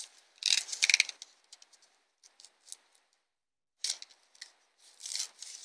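Material for a Halo 4 battle rifle prop is cut with a few crisp, close snips in short bursts, separated by quiet pauses.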